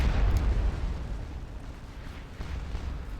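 Cannon fire from a Napoleonic battle in the video game Scourge of War: Waterloo, heard as a heavy, continuous low rumble of rolling booms with no voices.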